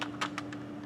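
Typing on a computer keyboard to enter a command, a few quick distinct key clicks in an uneven rhythm, close and moderately quiet over a faint steady hum.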